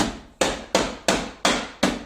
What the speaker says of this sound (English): Start from one side with your hammer, little tap, push the other side in